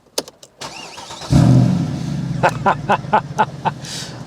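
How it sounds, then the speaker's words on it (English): A Mercedes W204 C63 AMG V8 engine cranks and fires into a deep, throaty idle, followed by several sharp blips of the throttle. A few clicks come before the start. "Talking of the V8, let's see what it sounds like when we start it up."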